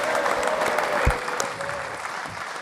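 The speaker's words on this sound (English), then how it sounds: "Give them all a big round of applause." Applause from a capacity crowd at a football club event honouring club legends, a steady wash of clapping that swells briefly near the middle and then eases off slightly.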